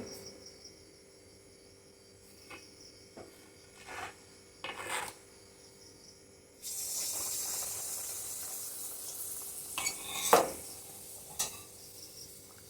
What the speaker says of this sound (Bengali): এখন দেখুন কিভাবে করছি আমি একটা একটা করে ভাজবো